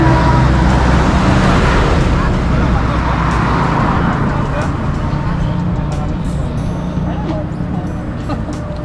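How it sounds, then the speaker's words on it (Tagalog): Steady roadside traffic rumbles past continuously, cars and larger vehicles blending into a loud, unbroken wash of road noise beside a fruit stall, with no clear pauses. "Kasi marami dumadaan mga sasakyan dito"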